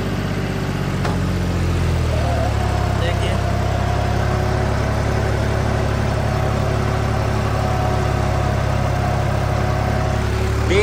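A John Deere 5310 tractor engine runs at a steady, even drone nearby, with a slight shift in pitch early on and a voice speaking over it.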